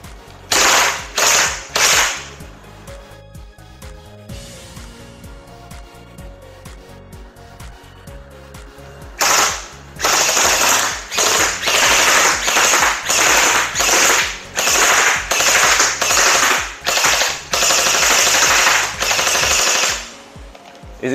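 A toy gel blaster fires gel bullets in loud rapid automatic bursts with a mechanical rattle, several bursts early, then a quieter stretch, then a long run of repeated bursts close to the listener.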